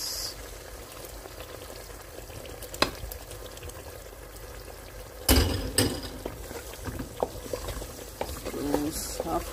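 Fresh tomatoes tipped into a pan of frying tinned tomatoes for a Nigerian beef stew: a soft steady sizzle and bubbling, broken by a sudden thump and splatter as the tomatoes land, with a few scattered knocks.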